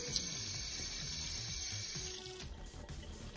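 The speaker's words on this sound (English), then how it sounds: "So what we want to do is start off with a little bit of hot water." Hot water runs steadily from a tap into a cast iron pan being stripped and cleaned, a continuous close splashing hiss with faint clinks, no talking.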